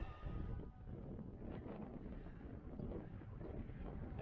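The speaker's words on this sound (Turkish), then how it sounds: "rüzgar var bu arada arkadaşlar" Wind buffets the microphone in a continuous low rumble, steady and loud across the whole stretch with no voices.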